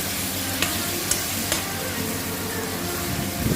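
Peeled taro roots frying in a pan give a steady, loud, close sizzle throughout, with a few sharp pops and crackles breaking through the constant hiss.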